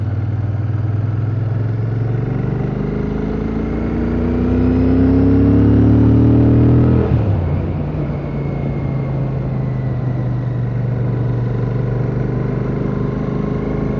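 A Royal Enfield Shotgun motorcycle ridden along a country road, its steady single-cylinder engine droning throughout, rising in pitch under acceleration and dropping sharply around the midpoint as the rider shifts, with wind noise and no talking.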